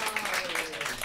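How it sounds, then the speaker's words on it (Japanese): A live-venue audience applauds a blues band, a dense, bright patter of many hands clapping with a voice speaking over it. "もう一度皆さん盛大な拍手を"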